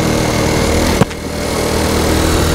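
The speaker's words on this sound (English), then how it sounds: "Just hear it backfiring a little bit." Honda Cub C90 motorcycle engine idling steadily with an exhaust that isn't properly connected, giving one sharp backfire pop through the leaky gap partway through.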